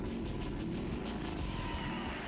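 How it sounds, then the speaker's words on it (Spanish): A custom chopper motorcycle built by Paul Teutul runs with a steady, even engine rumble and drone, moderately distant and unbroken for the whole stretch, with no sharp start-up burst audible. "Ya escucho el motor."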